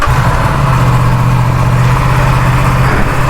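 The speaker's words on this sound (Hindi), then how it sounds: "तो ये कोल्ड स्टार्ट हो रहा है अभी।" An Aprilia RS 457 motorcycle engine idling just after a cold start, a steady, loud, low, even rumble close by with no pauses.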